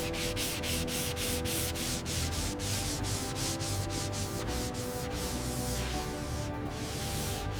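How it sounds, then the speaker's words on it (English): Steady sanding strokes rub across primer and black guide coat on the body of a 1939 Bentley, a rapid repeating scratch that stays loud and close throughout with no talking. "Sanding reveals the high spots as gray primer"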